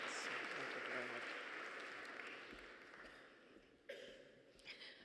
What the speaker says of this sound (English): Round of applause to Celine, please.